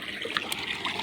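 Water running from a tank on a papaya farm, a close, steady trickle and splash with small bubbling spurts, heard alone without voices.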